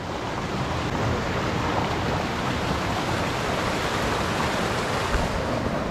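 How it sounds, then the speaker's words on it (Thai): Steady, dense wash of heavy rain pouring down at a forest camp, a constant broadband roar with no pauses, close and loud throughout. "ฝนตกหนักนะครับ"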